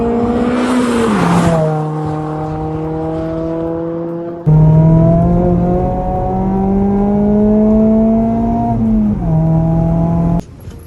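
Modified Mazda MX-5 ND with an aftermarket exhaust, driven hard from the cabin, the engine note rising and falling through gear changes with a steady droning tone, loud and close, briefly cutting off near the end.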